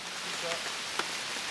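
Steady broadband hiss of rain falling, with a few faint drips and a soft tap, continuous and fairly close.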